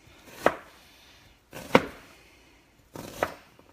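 Three separate knife chops on a cutting board while dicing ingredients for mango salsa, each a sharp close knock followed by a short pause.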